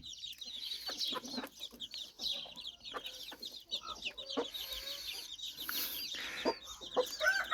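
Gray Ataks hens with their chicks cluck and chirp in a farm coop, giving short repeated calls at moderate volume with small peeps layered over them.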